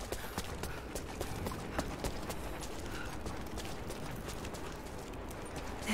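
Horse hooves clip-clop in the video game Rise of the Tomb Raider, a quick steady rhythm of soft thuds over a constant rumbling background, faint and continuous.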